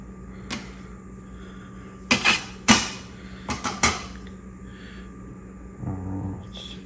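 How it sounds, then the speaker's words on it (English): A bench scraper turns over sourdough bread dough on a work surface, giving a handful of sharp, close scrapes and taps in irregular clusters against quiet background hum. "I like using my bench scraper for this part. Just gonna turn it over."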